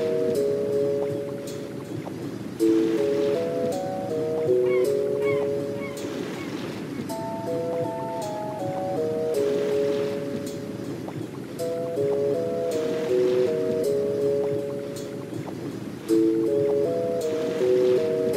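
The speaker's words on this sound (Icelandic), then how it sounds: "þá erum við á skipi Ingólfs Arnarssonar á leiðinni til Íslands til að nema land" In a 1998 PC adventure game, a sailing ship crosses the open sea toward Iceland: a steady wash of waves and creaking hull runs under a looping melodic game soundtrack, with no voices.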